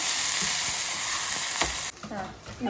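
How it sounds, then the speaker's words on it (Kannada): Mint and fenugreek leaves sizzle and fry in a pan for mushroom biryani, a continuous close hiss broken by a few stirring scrapes and clatters near the end. "ಪುದೀನ ಸೊಪ್ಪು ಹಾಗೆ ಮೆಂತ್ಯ ಸೊಪ್ಪನ್ನು ಕೂಡ ಸ್ವಲ್ಪ ಹಾಕಿ ಹುರ್ಕೊಳ್ತಾ ಇದ್ದಾರೆ"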